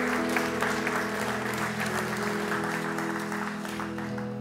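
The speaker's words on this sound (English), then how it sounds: "Would you give those a round of applause who raised their hand?" Church congregation gives a round of applause, a soft, continuous wash of clapping from a crowd, heard under a sustained musical drone from the worship band.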